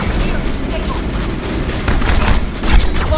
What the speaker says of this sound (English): Ran right into sniper fire.